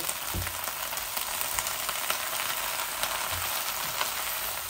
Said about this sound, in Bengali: এই দেখুন পেঁয়াজের সাথে এগুলা ভাজা ভাজা হচ্ছে।